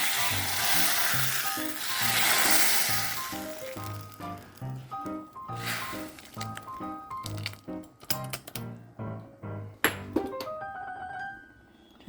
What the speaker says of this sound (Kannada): ಈಗ ನೋಡಿ ಒಗ್ಗರಣೆ ಹಾಕ್ತಾಯಿದ್ದೀನಿ.